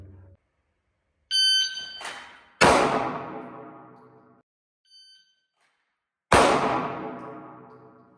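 Two loud, sharp handgun reports drawn from concealment on a qualification range, each with a long ringing decay, separated by a few seconds with a brief electronic timer beep preceding them.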